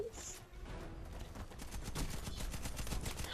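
Rapid machine-gun bursts fire in the video game Warface, a dense, loud rattle of gunfire running almost continuously, with faint voices mixed in.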